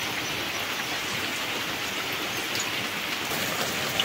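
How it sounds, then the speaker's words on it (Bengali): Rain falls steadily outside, a dense, even patter and hiss that continues unbroken with no voices. "আমাদের এইখানে অনেক বৃষ্টি হচ্ছে।"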